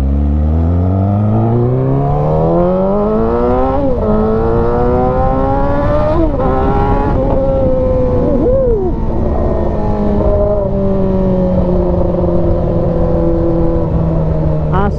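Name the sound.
Yamaha R6 motorcycle engine revving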